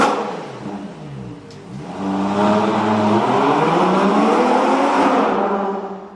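A Ferrari Purosangue SUV's engine revs close by, rising from a low idle into a loud, sustained high-revving howl with climbing harmonic tones, then easing slightly at the end.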